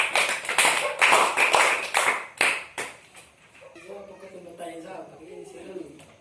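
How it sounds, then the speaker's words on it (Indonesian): A classroom of students applauding a presenting group, a burst of fast, loud clapping that fades out after a few seconds, followed by a teacher speaking. "Kita berikan aplaus kepada kelompok 2."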